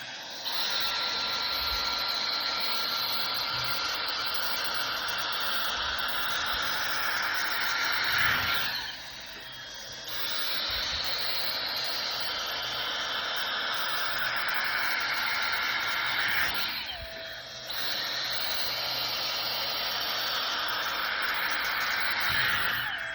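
A Dyson Airstrait hair straightener blows a steady airy whoosh while straightening hair, dipping briefly twice as the tool moves, with no talk.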